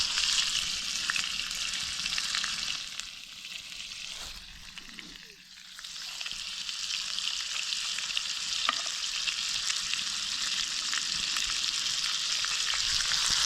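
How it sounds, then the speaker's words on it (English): Fresh bacon fries over an outdoor fire in an off-grid garden, giving a steady, dense sizzle that runs throughout and briefly dips and thins midway before rising again. "Put some of this bacon on the"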